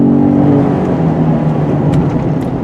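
A 2017 Ford F-150 Raptor pickup truck, about 6,000 pounds, accelerates hard, its engine droning loud and close with a rising whir and no talking.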